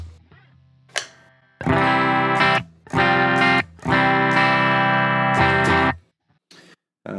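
Electric guitar chords through a compressor pedal ring out in several sustained, evenly leveled strums separated by short pauses, clean and smooth with a compressed, even tone.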